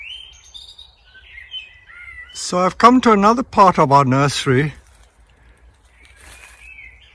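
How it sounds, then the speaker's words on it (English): Wild birds sing in a tree nursery, with thin chirps and whistled phrases, faint and somewhat distant, before and after someone speaking in the middle. "these birds that you can hear singing, this is not tape recorded music, this is actual bird song in our nursery"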